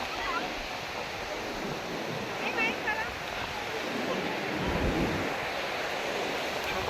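Rough sea surf breaking on the shore at Dwarka, a steady broad wash of waves swelling louder near the end, with someone talking over it.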